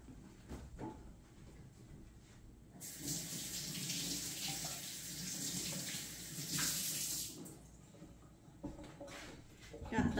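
Running tap water pours over little potatoes being rinsed in a kitchen sink, a steady close rush that swells for several seconds in the middle, with quiet talk around it.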